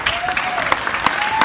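Crowd applause at a peace walk honoring Trayvon Martin, steady clapping from a gathered audience with a voice speaking over it and a faint whistle-like tone threading through.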